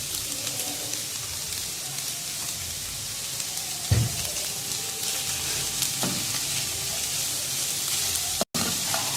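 Chicken and capsicum frying in a pan, a steady close sizzle of hot oil with occasional stirring clatters and one sharp bump partway through.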